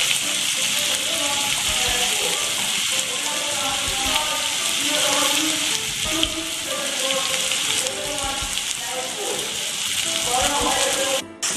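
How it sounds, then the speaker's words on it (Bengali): Potatoes stir-fried in a pan sizzle and crackle steadily and loudly throughout, a dense broadband frying hiss like heavy rain, with scattered scraping stirs and faint background music. "আলুটা দিয়ে আরো 1 মিনিট নাড়িয়ে নিয়েছি।"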